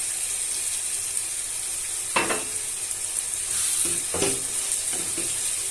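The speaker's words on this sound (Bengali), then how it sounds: "এখন সুন্দর করে মাংসটা কষায় নেব।" Chicken pieces for a papaya chicken curry sizzle in a hot pan as they are stir-fried, a steady hiss broken by a few scraping stirs of the spatula, with no voices.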